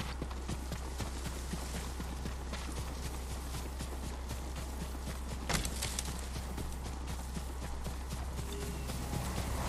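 A horse's hooves clip-clop at a steady, continuous pace in the samurai video game Ghost of Tsushima, moderately loud over a constant low ambient hum with no talk.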